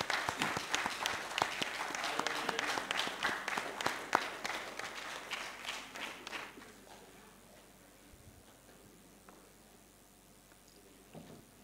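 A crowd applauds with dense clapping that gradually thins and fades to scattered claps and room noise.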